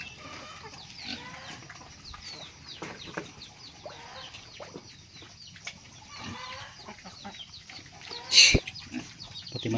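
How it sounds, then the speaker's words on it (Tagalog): Chickens cluck and chatter in a farmyard with several birds calling over one another at close to mid range, with one sharp, loud squawk near the end. "Pati manok."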